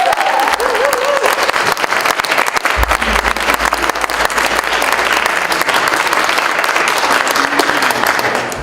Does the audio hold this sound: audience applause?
yes